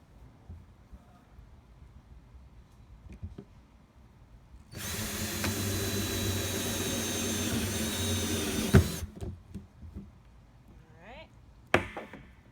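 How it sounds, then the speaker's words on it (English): A power drill fitted with a hole saw bit cuts through the plastic wall of a rain barrel, a steady loud grinding whine lasting about four seconds before stopping with a clunk, followed by faint rustling and handling. "so we're going to drill that hole now. We are actually going to use one of the other hole drill bits."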